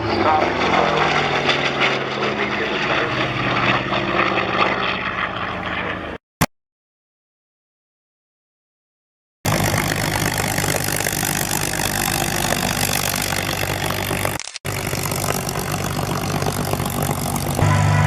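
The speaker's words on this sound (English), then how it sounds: "Became the fastest single engine propeller driven aircraft ever produced." A single-engine propeller warplane roars past at the 2013 Cosford Airshow, a loud sustained engine drone that cuts out briefly to silence, then returns strong and close, with a commentator talking over it.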